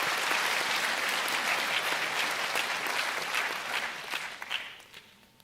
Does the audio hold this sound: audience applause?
yes